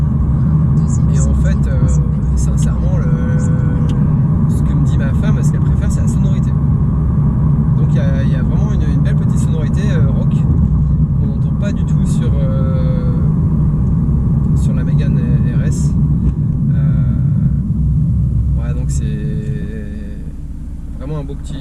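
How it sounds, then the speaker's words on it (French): Alpine Legend GT with the sport exhaust option, engine rumbling steadily while driving, a continuous low drone with intake noise underneath someone talking throughout. "Ça ratatouille, il y a un petit bruit d'aspiration derrière, un bruit rock."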